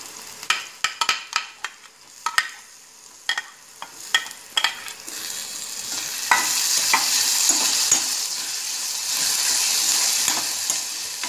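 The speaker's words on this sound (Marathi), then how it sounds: "टोमॅटो खमंग परतून घ्यायचा फोडणीमध्ये" Tomatoes sautéing in a spiced tempering for masala upma: sharp scrapes and clacks of stirring come first, then a steady, louder sizzle of frying fills the pan.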